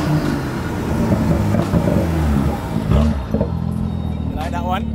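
A BMW M2 with an N55 engine and catless downpipe revs hard, its loud, rumbling exhaust note rising and falling throughout, with a voice talking over it partway through.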